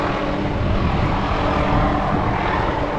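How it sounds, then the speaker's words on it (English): Helicopter flying overhead at a fish camp renovation, carrying a tool bag slung underneath, a loud, steady rotor and engine roar that fills the whole stretch without pause. "Here comes the helicopter back again."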